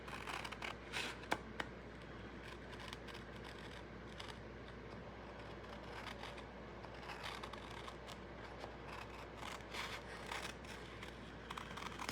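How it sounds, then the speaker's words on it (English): Small fussy-cutting scissors snipping around images on book pages, a long run of quiet, quick irregular clicks and paper rustles up close with no speech. "I'll get my little fussy cutting scissors out and cut around this better."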